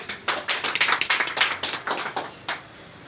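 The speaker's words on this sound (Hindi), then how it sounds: "इसी साथ में तीनों गुरु के साथ में ताली से स्वागत।" Hands clap to welcome three teachers at a gathering: a quick, uneven burst of close claps lasting a few seconds, then tailing off into one last clap.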